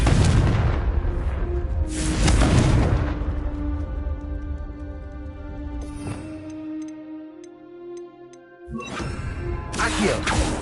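Confringo fire spell bursting in the video game Hogwarts Legacy, heavy booming blasts near the start and end with a rumbling, crackling tail between, a voice calling out over the game sounds.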